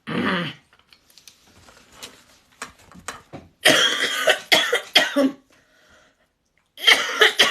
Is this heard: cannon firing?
no